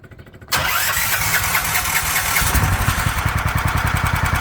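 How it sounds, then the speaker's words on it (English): Big block engine swapped into a Hisun UTV, cranked by pull starter: a brief pull then the engine sputters, catches and runs loudly nearby with an uneven, pulsing rhythm that settles toward a faster chug. "the only way to fix this is to pull on the starter to get the engine past the compression stroke"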